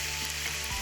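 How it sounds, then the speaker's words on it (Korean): Kimchi stir-frying in a hot pan gives a dense, continuous close sizzle that stays loud and even for under a second, with no voices. "신선하게 김치를 볶을 거예요."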